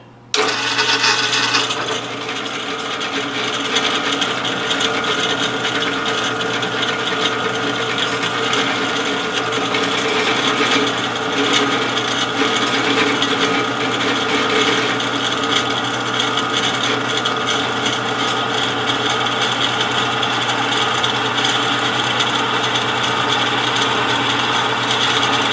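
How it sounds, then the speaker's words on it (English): A drill press center drills metal with a constant, loud motor whine and grinding hum that runs steadily and without pause. "now we're going to center drill this thing"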